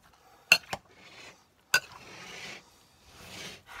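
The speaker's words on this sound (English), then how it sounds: "And then we're just gonna mix." Sharp clinks of a spoon against a bowl, then soft wet stirring swishes as Texas cowboy bean caviar dip is mixed, close and fairly quiet with no talk.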